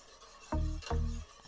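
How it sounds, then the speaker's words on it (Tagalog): A spoon scrapes and stirs sugar through boiling water in a pot while making lemon-orange ice candy, two distinct close rasping strokes followed by a lighter third one. "Ating hahaluin."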